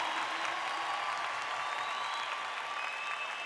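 A church congregation claps in a dense, even wash of applause that holds steady throughout at a moderate distance.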